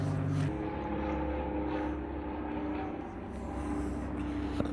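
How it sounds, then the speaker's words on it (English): Propeller aircraft passing overhead near a German dairy farm, a steady low engine drone that holds throughout at moderate distance, with a brief tonal whine at the start and light ambient noise. "Two planes in a row"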